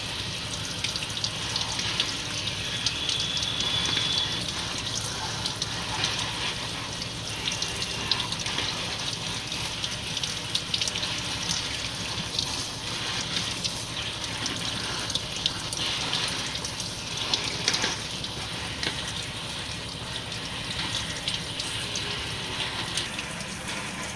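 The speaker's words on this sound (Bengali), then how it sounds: "আমরা জল ভরে রাখলাম" Tap water running steadily into a container while mushrooms are being cleaned for cooking, a constant hissing, splashing flow close by that lasts throughout with no talking.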